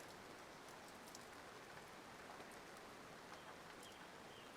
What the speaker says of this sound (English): I don't know if you can hear or see any of the rain coming off behind me